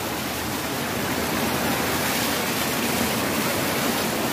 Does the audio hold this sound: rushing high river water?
yes